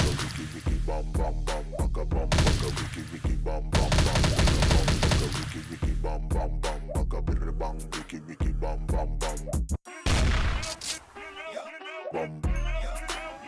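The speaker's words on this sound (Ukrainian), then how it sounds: "О, тепер цей стріляє. МП5." Rapid bursts of MP5 submachine gun fire crackle loudly and repeatedly in Minecraft, with short pauses between volleys and other game sounds mixed in.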